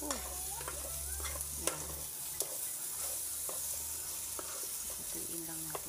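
Garlic, onion and sweet potato stir-frying in a pan, a steady sizzle broken by sharp scrapes and clicks of a spatula, with a brief spoken word near the start.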